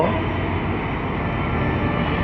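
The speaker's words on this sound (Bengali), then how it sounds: "ষোলো পয়েন্টে ট্রেনটি ঢুকতেছে বন্ধুরা" An intercity train pulled by two engines passes under the Khilgaon flyover in Dhaka, heading for Kamalapur. It gives a loud, continuous, close rumble and roar that stays steady throughout.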